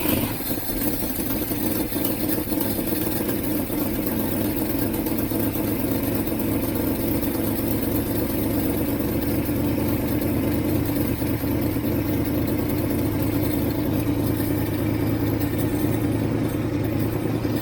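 Idling 1967 Mustang 390 V8 with a large exhaust leak, a steady continuous rumble with a faint ticking chuff, close by and with no talk.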